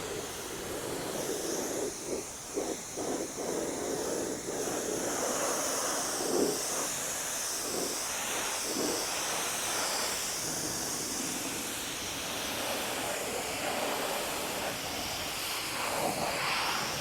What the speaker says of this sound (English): this is going to be a light rinse because I'm going to use the iron remover on it.